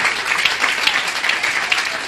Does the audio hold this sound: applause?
yes